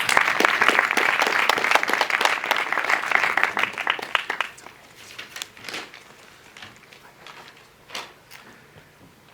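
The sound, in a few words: audience applause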